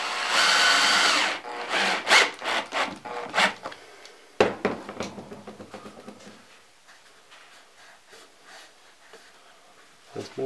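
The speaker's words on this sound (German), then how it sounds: "Und dann schrauben wir das Ganze fest." A power drill drives screws into a small wooden chair for a hand puppet, loud whirring bursts in the first half, then quieter handling and scraping of the wood.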